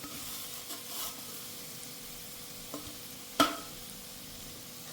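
Spice powder is stirred into buttermilk-chilli chitranna in a hot pan after the stove is switched off, a soft continuous scraping and rustle with a faint sizzle and a few sharper utensil clicks.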